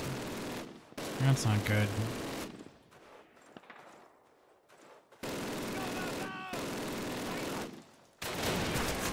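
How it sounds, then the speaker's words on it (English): Bursts of MG42 machine-gun fire and other gunfire ring out in a Call of Duty battle, separated by quieter gaps, while a player speaks briefly. "Ooh, that's an MG42."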